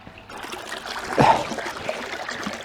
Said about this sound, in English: I'll show you that with the water running through.